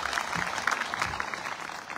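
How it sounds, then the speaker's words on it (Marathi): A crowd at an outdoor election campaign rally claps for the women in the audience, dense steady applause filling the whole two seconds at moderate distance, with no voices standing out. "सगळी पुरुष मंडळीने एकदा महिलांचा जोरदार टाळ्या मारून अभिनंदन करा"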